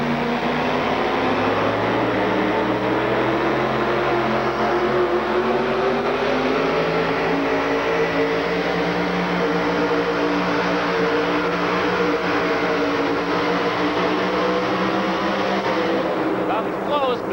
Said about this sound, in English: You know, Bob, the weight transfer machine is transferring the weight up the ramp and going all the way to the top much quicker in this class